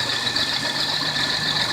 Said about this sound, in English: She was not idling before on her own like this